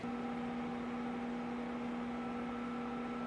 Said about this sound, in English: I'm gonna go ahead and throw this into the microwave for just a minute